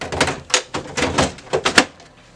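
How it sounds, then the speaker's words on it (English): Front and top access doors of a Lexmark MS810 laser printer being shut, a series of close plastic clicks and thunks in quick irregular succession, about seven knocks over two seconds with no talking. "Close the front access door and the top access door"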